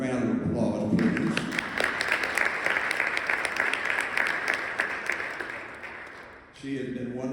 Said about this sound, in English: Nancy Glazer needs a round of applause, please.